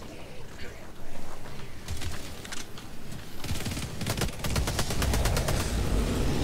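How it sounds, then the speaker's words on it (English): Machine pistol gunfire in Helldivers 2, heard as rapid bursts of automatic shots that start sporadically and grow into sustained, dense firing toward the end, loud and close, with other game noise underneath. "I like the machine pistol"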